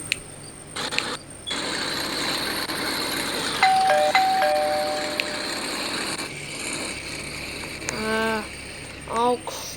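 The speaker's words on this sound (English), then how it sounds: "Someone just rang my doorbell." A house doorbell rings with a quick pair of bright chimes near the end, preceded by a steady electronic tone and background hum indoors.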